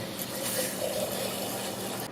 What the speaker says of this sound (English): Put it in my jar, get some water in there.